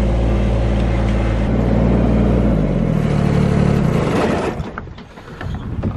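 Car engine rumbling and revving steadily up close as a vehicle drives down to a homestead workshop, the drone easing off and turning rougher near the end.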